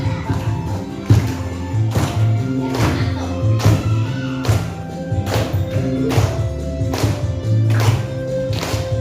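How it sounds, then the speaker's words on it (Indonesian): Children clap along in steady, evenly spaced beats while singing a Javanese song in a classroom, with a sung melody and a brief spoken remark over the loud, rhythmic claps. "Pakai tepuk tangan."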